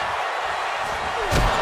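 A knee strike in the corner during a WWE 2K25 wrestling video game match: one sharp slam lands near the end over a constant arena crowd roar, with commentary voices around it.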